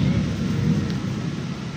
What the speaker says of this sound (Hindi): फुल अंधेरा, फुल हैवी बादल गरज रहे हैं।